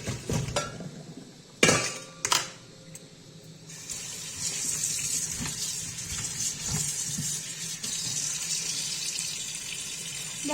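Boiled bitter gourd rinsed in cold water in a strainer: a few sharp metallic clinks at first, then a steady tap stream splashing and running through the strainer, close by, with no talking.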